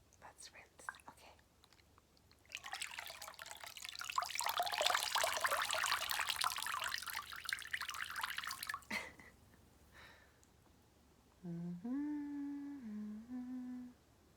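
Water splashes and runs steadily for several seconds as a yogurt face mask is rinsed off a face, soft and close, followed after a pause by a voice quietly humming.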